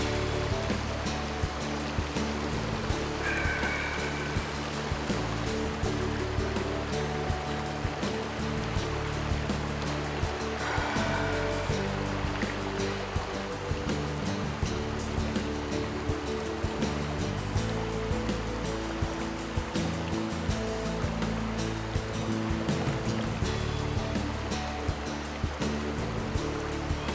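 A river flows steadily behind an outdoor spot, its continuous rushing water forming a broad, even wash that holds at a constant level throughout.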